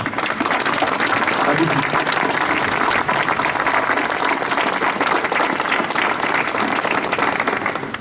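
Sustained applause from a crowd at the inauguration of the Place Saint-Gervais fountain in Avranches, a dense, steady wash of clapping that holds at full strength throughout with no pauses.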